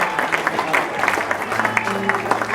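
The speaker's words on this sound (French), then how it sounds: "Tout le monde va applaudir" A church congregation at a Sunday service claps together in a steady ongoing round of applause beneath a speaking voice.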